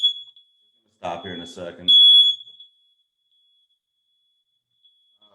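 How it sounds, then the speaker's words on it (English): A smoke alarm beeps in a steady high tone that fades after a moment, then returns louder for a second, with someone talking briefly between the beeps. "Fucking fire alarm had to go off, so we went and turned that bitch off."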